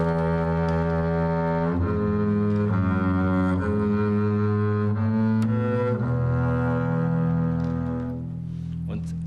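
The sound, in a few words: double bass played with a bow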